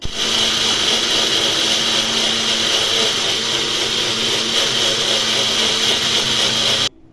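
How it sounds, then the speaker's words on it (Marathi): A mixer grinder blending buttermilk whirs loudly and steadily at high speed for several seconds, then cuts off abruptly just before the end. "आता मिक्सरचं झाकण लावूया आणि हे मिक्सरला छान फिरवून घेऊया"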